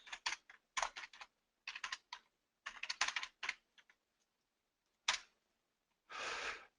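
Code is typed on a computer keyboard in close, crisp bursts of keystrokes separated by short pauses, ending with a few isolated taps and a brief rustle, no talking.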